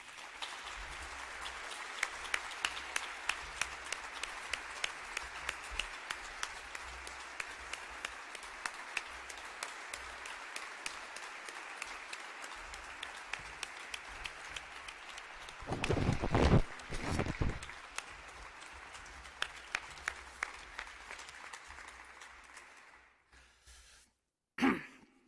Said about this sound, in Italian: vorrei davvero con il nostro applauso ringraziarlo di cuore